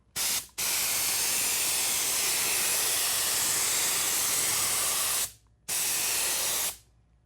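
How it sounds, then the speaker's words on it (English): Steady loud hiss of an airbrush spraying colour evenly over a chocolate mold, three sustained bursts up close with brief silent pauses between them. "I'm going to spray just over the top of the mold very evenly."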